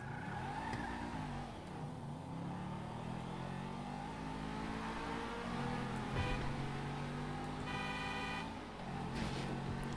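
Cars racing through city streets in GTA V, engines revving and droning with rising and falling pitch, a horn sounding in short bursts near the end, all fairly loud and continuous.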